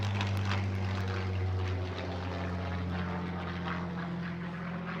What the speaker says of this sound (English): Proper flyby.